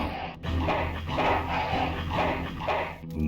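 A dog barks and yips in the remastered adventure game Full Throttle, with repeated close, rhythmic barks and whimpers over a low game backdrop.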